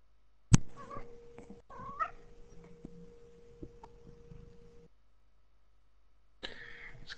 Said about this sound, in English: It's Kitty saying hello.